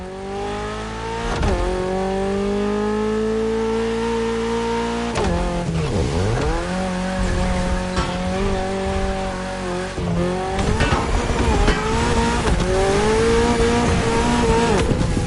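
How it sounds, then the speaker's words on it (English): A Toyota GR86 races in The Crew Motorfest on PS5, its engine revving loudly and steadily, pitch climbing through gears and dropping on shifts, with tire squeal and skidding in the middle of the run. "You should be ready for anything with that Toyota GR86."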